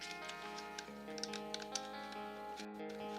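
Rapid clicky button presses on a new game controller, a run of small sharp taps over a steady tonal background, close and fairly quiet.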